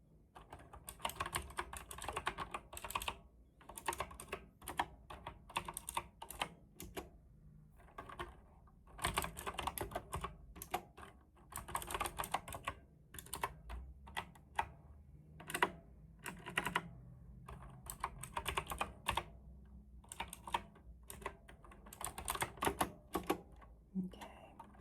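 Steady typing on a computer keyboard fills the scene, with bursts of quiet clicking keystrokes and brief pauses, close by and soft, while a low voice speaks faintly at times.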